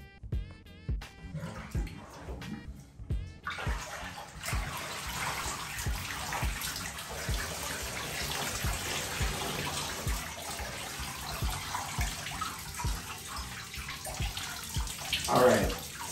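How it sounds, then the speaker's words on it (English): Soapy rinse water drains from a bathtub after denim jeans are washed, a steady gurgling rush that carries on for many seconds, preceded by a few knocks and splashes. "So we're gonna drain this water"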